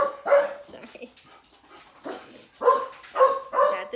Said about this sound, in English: He's at the door. And then the dog goes crazy.